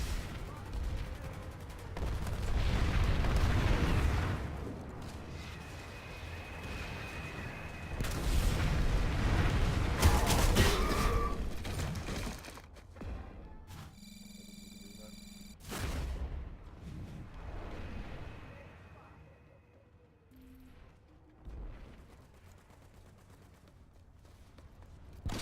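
Rapid gunfire bursts from a video game shooter, loud and dense in the opening seconds and again mid-clip, with sharp individual shots scattered later among quieter stretches and game effects, while a player talks over it.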